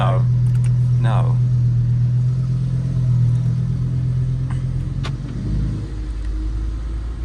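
Lamborghini Huracan Sterrato, an off-road version of the supercar, runs with a steady, deep engine drone heard close from inside. The engine holds a constant low rumble with a slight dip near the end, and there are brief faint voice sounds.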